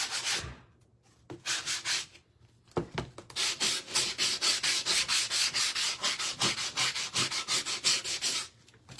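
An old toolbox is hand sanded with a sanding block, making rhythmic rasping strokes in quick back-and-forth bursts, close and fairly loud, with a brief pause early before a long steady run of strokes.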